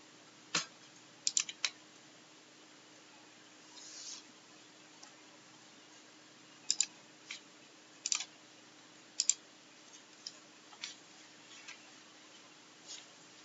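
Sparse mouse clicks on a computer during a CentOS 7 installation in VirtualBox, quiet single and double clicks scattered irregularly over a faint background hum.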